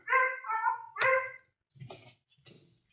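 Dogs barking indoors, a few close, sharp barks in quick succession followed by softer yips and whimpers with pauses between.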